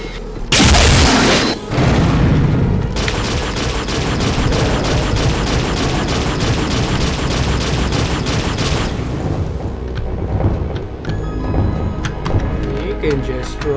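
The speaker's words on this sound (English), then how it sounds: "You can just throw so many rockets at this thing and it just will not go down." Rockets explode in a video game, a heavy boom followed by a sustained roaring barrage of rapid blasts that stays loud and dense, then tapers into scattered rumbling impacts.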